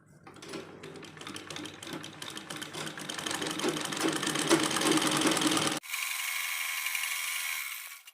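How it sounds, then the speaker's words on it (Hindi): A sewing machine runs a straight seam joining the panels of a four-panel petticoat, a rapid, even mechanical stitching rattle for several seconds that stops abruptly, leaving a quieter whirring hum. "यहाँ से एक पैर का मार्जिन देते हुए सीधी सिलाई कर लेंगे।"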